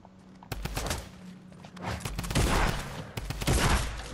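Gunfire in a French gun game match, rapid bursts of shots sounding close and loud, with several sharp reports clustered over a few seconds and a busy game background.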